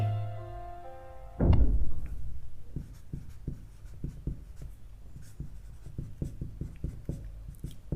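After a single dull thud, a pen writes a quadratic equation working on paper, producing a string of short, distinct tapping strokes and scratches close by, with no speech.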